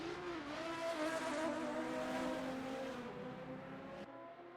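A BMW race car in a sim racing game pulls out of pit lane, its engine droning steadily with a rising, wavering tone, moderately loud, before cutting off abruptly near the end.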